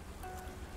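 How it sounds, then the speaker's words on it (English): Soft steady rainfall in the video game Cassette Beasts, a faint continuous patter with no talk over it. "Oh, it's raining."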